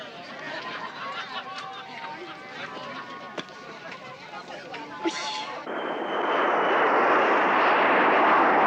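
Air France 139 airliner in a climb, a steady jet engine roar that swells and becomes louder and brighter near the end, with cabin chatter and voices beneath it.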